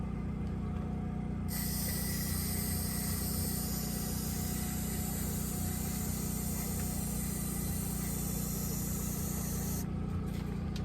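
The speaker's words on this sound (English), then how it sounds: "we're going to give this a good spray" A steady, continuous hiss of spray runs for several seconds close by, stopping near the end, over a low constant rumble.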